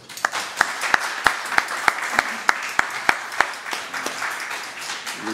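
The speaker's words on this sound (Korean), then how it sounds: "우리 큰 박수로" A congregation at a Korean church's 30th-anniversary service claps in a slow, evenly spaced rhythm, each sharp unison clap ringing out over a faint room murmur.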